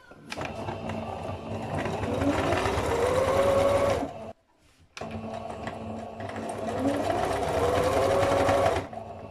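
Sewing machine stitching around a washable cloth wipe in two continuous runs of rapid whirring with a brief pause between them, close and clear.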